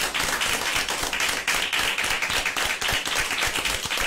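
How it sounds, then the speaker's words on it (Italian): An audience at a quantum physics television programme claps in a brisk, dense burst of applause offered in remembrance, close and continuous for a few seconds. "facciamo un applauso, un applauso per, per ricordare"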